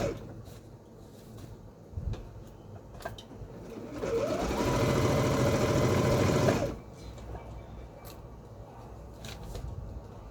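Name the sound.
sewing machine stitching a top hem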